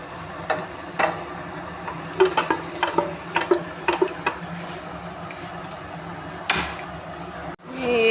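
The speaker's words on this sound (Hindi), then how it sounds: "अब मैं आस्ता आस्ता से लगाऊँगी तड़का, इसके अंदर डालूँगी" Sizzling and crackling with sharp pops and spatters as hot oil tempering is poured into moong dal, a burst of loud hissing near the end, no talking.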